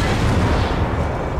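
A tank cannon fires in a World of Tanks-style game, with the Tiger Mouse heavy tank nearby. The heavy, rumbling blast is sustained and loud, with dense low-end boom and no voices throughout.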